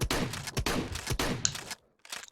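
Rapid bursts of gunfire from a virtual-reality video game gun, several quick shots in a row that stop abruptly as the ammunition runs out, followed by a short pause and one last faint burst.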